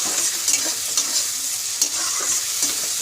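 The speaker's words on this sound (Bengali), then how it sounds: "তড়কা মশলা দিয়ে একটুখানি ভালো করে একটুখানি আবার কষাবো।" Tarka masala stir-frying in a pan for an egg tarka: a steady, close sizzle with repeated scraping stirs of the spatula, fairly loud and with no voice.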